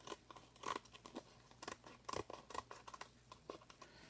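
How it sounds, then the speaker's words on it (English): Scissors trim paper for a journal pocket envelope, with a quiet run of crisp, close snips and crunching cuts at an uneven pace. "Let me trim one of these off."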